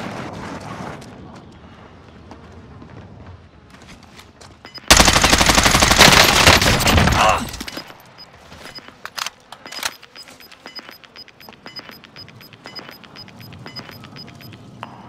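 Gunfire in Call of Duty: Modern Warfare, a dense loud burst of automatic fire lasting a few seconds, then scattered shots and clicks over a faint electronic tone, with quieter game sounds before it.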